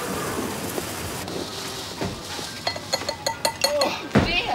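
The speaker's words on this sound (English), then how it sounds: "I've never known rain like this in my life." Heavy rain on a 1992 British TV set, with a steady loud rain hiss, a thunder rumble near the end and a run of sharp drips or clatters on a hard surface, with a brief voice.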